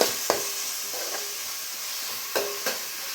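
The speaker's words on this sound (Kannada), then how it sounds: "ಈರುಳ್ಳಿ ಎರಡನ್ನೂ ಸೇರಿ ಎಣ್ಣೆನಲ್ಲಿ ಹಾಗೆ ಹುರ್ಕೊಂಬಿಡೋಣ" Onions and tomato frying together in hot oil for an egg and okra masala: a steady, close sizzle with a few sharp stirring scrapes of a spoon in the pan, no voices.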